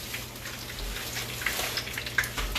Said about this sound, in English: You know when you hear that sizzle, it's real.